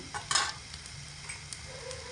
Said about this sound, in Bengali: আদা রসুন আর লঙ্কা দেওয়ার পরে হাফ মিনিট মতো নাড়াচাড়া করে নিয়েছি